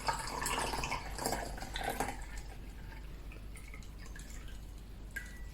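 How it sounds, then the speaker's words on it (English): Daiquiri cocktail poured into a coupe glass, a bright close splash and trickle of liquid during the first two seconds, then a quiet tail with faint drips. "Just pour that into your glass"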